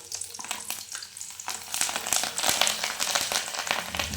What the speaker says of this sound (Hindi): तो मैंने गाइस हरी मिर्ची भी का तड़का दिया है